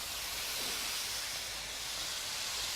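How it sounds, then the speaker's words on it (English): Beef spread out in a hot pan gives a loud, continuous close sizzle, a dense unbroken hiss with no pauses and no voices. "I'm just going to get my beef into this hot pan, and that's the sizzle you want to hear"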